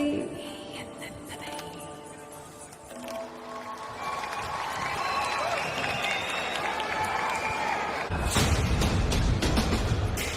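Live concert audience applauds the team, the band and the singer; music fades out, then loud, dense clapping and cheering burst in near the end.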